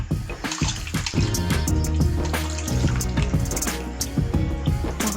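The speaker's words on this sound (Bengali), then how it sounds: "খাওয়া শেষ হয়ে গেছে, হাত ধুয়ে নিচ্ছি।" Water runs steadily from a tap as hands are washed after a meal. The stream is constant and close, with small splashes and drips and no talking.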